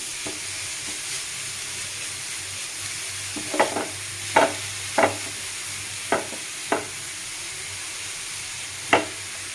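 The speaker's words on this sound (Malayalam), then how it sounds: "1 ടീസ്പൂൺ നെയ്യ് ഇട്ട് കൊടുക്കാം. ഈ ക്യാരറ്റ് ഒന്ന് വഴറ്റിയെടുക്കാം." Grated carrot sautéing in ghee in a pan, a soft continuous sizzle broken by several sharp scraping knocks of the spatula at uneven intervals, close and without talk.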